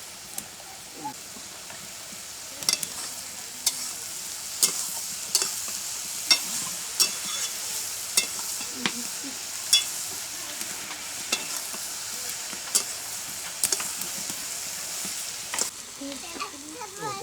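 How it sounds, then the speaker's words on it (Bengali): Eggplant frying in oil in a pan, with more oil poured around its edges: a steady close sizzle and hiss, punctuated by regular sharp taps and scrapes of stirring about once a second. "বেগুনের ধার দিয়ে দিয়ে তেল দিয়ে দিচ্ছি, যেটা বেগুনটা না পড়ে।"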